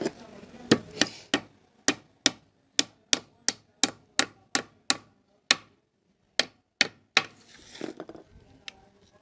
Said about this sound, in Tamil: இந்த மாதிரி வந்து ஆணி வச்சு ஒரு 2-3 ஆணி வந்து பார்த்திங்கன்னா நகராமல் இருக்கிற மாதிரி வந்து அடிச்சு விட்ருங்க.